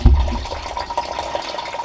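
Coolant drains from a Lexus IS300 radiator in a steady, close splashing flow of liquid with a gurgling start, continuing without pause.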